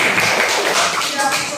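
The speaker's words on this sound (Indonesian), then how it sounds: "Tepuk tangan untuk kelompok 4." A classroom of students claps for a presenting group, a steady dense patter of hands sustained throughout at even loudness.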